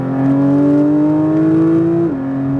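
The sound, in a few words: Porsche 992 GT3 engine accelerating on throttle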